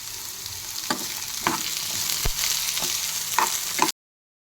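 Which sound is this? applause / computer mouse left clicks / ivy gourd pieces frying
ivy gourd pieces frying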